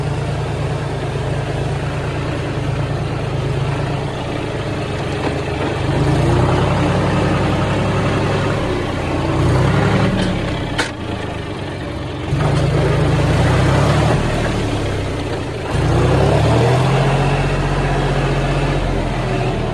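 A 16-year-old tractor engine runs continuously nearby, a low, steady diesel rumble that swells slightly in a few places, with no talking over it.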